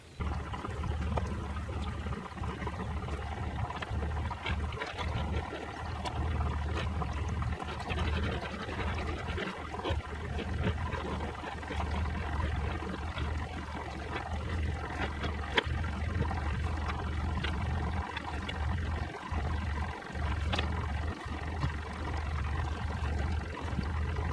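A boat motors down a strait, giving a steady, unbroken hum of engine and water that stays near and fairly loud throughout, with splashing and wash mixed in and no talking.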